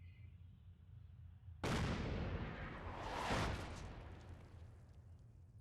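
In Fallout 4, artillery fire lands as a sudden heavy boom that rolls on into a long rumbling roar with a second swell, loud over a low steady background, while a voice speaks briefly.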